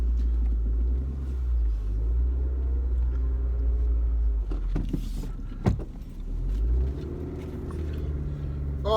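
Car idling and pulling away in a car park, a low steady engine rumble inside the cabin with a few clicks and knocks midway before the engine note shifts as it moves off.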